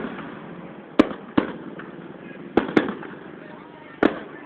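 Fireworks are launched in a series of sharp, loud pops at uneven intervals, five or so bursts ringing out over a hissing, crackling background.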